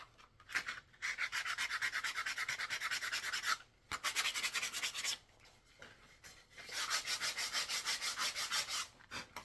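Sandpaper rubs over a wooden flute from a kit in long rhythmic back-and-forth strokes, a close, rasping scratch that stops in two brief pauses. No one speaks.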